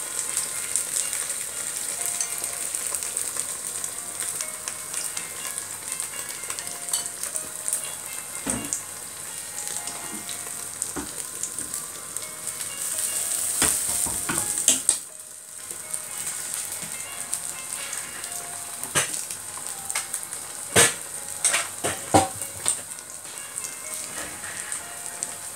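Egg mixture frying in a hot pan for a Shanghai-style tofu egg dish, a steady dense sizzle running throughout with a few brief crackles and pops, close and fairly loud.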